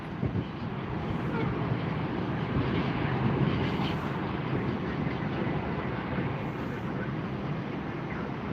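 A JetBlue airliner landing at Tampa airport gives a steady, distant broadband jet roar with wind rumble, holding level throughout without talk.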